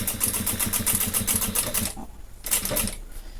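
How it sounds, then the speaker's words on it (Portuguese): A sewing machine stitches along the edge of fabric for a baby bottle holder or thermal bag. A fast, rhythmic whirring run breaks off, and a shorter second burst follows, close and alone. "Aí, agora eu vou até a próxima marcação, costurando pela bordinha."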